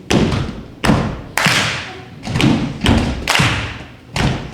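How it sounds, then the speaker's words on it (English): Audience at an improv comedy show stomps and claps in a steady rhythm: heavy booming thuds recur about every second, each with a crisp sharp attack, loud and close, with no talking over them. "take 1 foot stomp, next foot stomp, clap"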